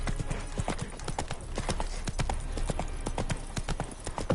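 Horse hooves clip-clop steadily in The Witcher 3 video game, a continuous rapid rhythm of close, fairly loud hoof strikes over a low rumbling background.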